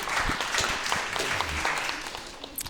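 Audience applause at a live comedy show, a steady wash of many hands clapping close and loud for the whole stretch, thinning slightly toward the end, with no talk over it.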